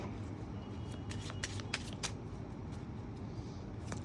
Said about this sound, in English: I'll just let the cards fall now.